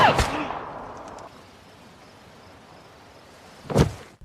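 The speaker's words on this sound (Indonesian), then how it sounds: "Vale berhasil menembak perut psikopat sampai mules" Gunshots in a film scene where a psychopath is shot in the stomach: one sharp, loud crack at the very start and another near the end, with a low, quiet rumble in between.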